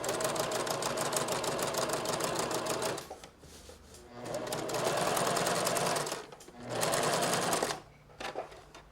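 A sewing machine stitching a ruffle hem runs in three fast, buzzing bursts separated by short pauses, close and clear.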